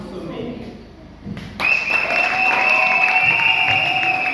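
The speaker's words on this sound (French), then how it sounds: "Un tonnerre d'applaudissements" An audience at a Congolese women's event breaks into applause, a sudden loud burst of clapping after a quieter stretch with a voice, with a bright sustained tone ringing over the crowd.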